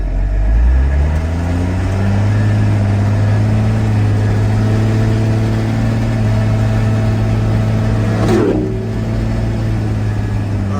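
A 1976 Ford F-250 Super Duty with an Allison automatic transmission drives under load, its engine droning steadily, with a distinct gear shift and change in engine pitch near the end.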